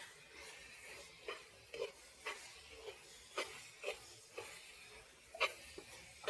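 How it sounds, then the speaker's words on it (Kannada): Spice masala with turmeric frying in a pan for a large egg masala dish, a quiet sizzle broken by regular spoon-stirring scrapes and clicks about every half second. "ಮಸಾಲೆ ಒಳ್ಳೆ ಫ್ರೈ ಆಗಬೇಕು."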